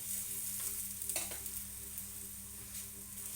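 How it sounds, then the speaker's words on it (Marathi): A cheese paratha fries in oil on a pan, giving a soft, steady sizzle with faint scraping and stirring touches and a few brief crackles. "साईडला असं तेल टाकायचं असं तेल टाकायचं आणि पलती मारायची बघा"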